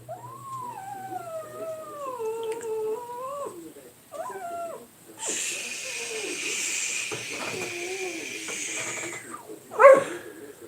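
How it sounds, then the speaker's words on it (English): A restless pet dog makes long, wavering whines and howl-like cries indoors, with a few breaks, plus a louder sharp yelp near the end. "Don't mind the dog noisy in the background."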